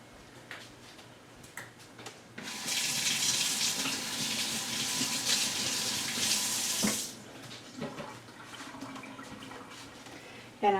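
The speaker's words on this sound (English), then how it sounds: "I'm going to just rinse this off." Tap water runs loudly for several seconds as something is rinsed under it, then shuts off, leaving quieter kitchen clatter.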